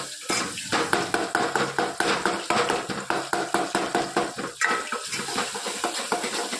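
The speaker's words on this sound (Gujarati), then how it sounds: "બધું આપણે મિક્સ કરી લઈએ." Spices such as coriander-cumin powder, turmeric and garam masala being stirred in a cooking pan: a quick, steady run of spoon scrapes and clinks against the metal, close and continuous, with a faint sizzle underneath.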